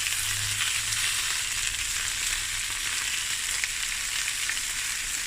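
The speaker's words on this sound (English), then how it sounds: "And now I'm just going to let this fry." Sausages sizzle steadily in a hot pan, a continuous crackling hiss with a low hum underneath and no talking.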